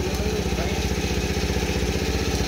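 A small motorcycle engine idles steadily up close, its rapid even putter holding a constant rhythm throughout.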